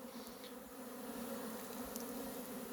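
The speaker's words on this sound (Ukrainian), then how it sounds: "Ось так облітується бджола е, в деяких вуликах." Bees flying around a beehive at an apiary in the evening make a steady, dense buzzing drone, with a few individual bees passing closer now and then. No voice is heard.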